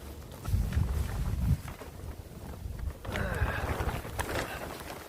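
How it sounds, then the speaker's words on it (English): Wind blows outdoors in breezy conditions, gusting in low buffeting rushes against the microphone, strong at first and then softer, with faint rustling and other light noises around it. "As you can see, it's breezy, but it's nice."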